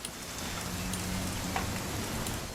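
Steady rainfall in the video game What Remains of Edith Finch forms an even, continuous hiss that fills the whole moment, with a faint low hum beneath and no talking.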